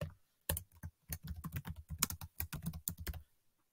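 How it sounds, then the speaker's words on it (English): Typing on a computer keyboard, close and fairly quiet, a burst of rapid uneven keystrokes after a short pause with no talking. "if you go and you type in Donald Trump"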